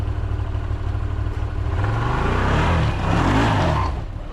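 An off-road vehicle climbs a rock ledge, its engine revving and rising in pitch as the gas comes on, loud and close, then easing slightly.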